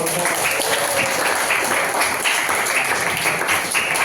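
A roomful of people claps together in loud, continuous applause that stays close and unbroken from start to end.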